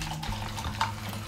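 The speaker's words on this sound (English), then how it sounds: "Maybe pour a glass of our favorite sparkling water." Sparkling water poured into a glass, a short, gentle splash and trickle of liquid heard close by and fairly quiet, with a small bright bubbling burst partway through.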